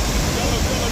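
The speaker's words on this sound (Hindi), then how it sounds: "बहुत ज़्यादा पानी आ रहा है इस रोड में।" Floodwater rushing across a road during a flash flood in Manali, Himachal Pradesh, as a steady, loud broadband roar of churning water with no break in the sound.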